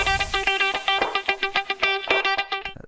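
A choppy dubstep synth riff pulses in rapid stuttering bursts with distorted, buzzing tones, loud and alone.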